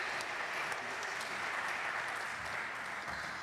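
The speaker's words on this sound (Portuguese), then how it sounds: "salva de palmas para Joana e Caterine" An audience at an art biennial symposium applauds the speakers, a steady wash of many hands clapping heard from a short distance at moderate volume.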